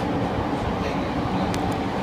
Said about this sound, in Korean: 일본의 지하철 안.